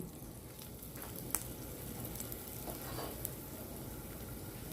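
Two pieces of ginger frying in cooking oil in a pan for a pork adobo dish, giving a steady, close crackling sizzle throughout with a couple of small sharp pops and no talking.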